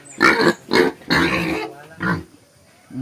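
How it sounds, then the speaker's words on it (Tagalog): A pig grunts at feeding time in a series of loud, close, rough bursts, four main grunts with short pauses between them and a fainter one at the end, with no talking. "Gibahugan ang baboy."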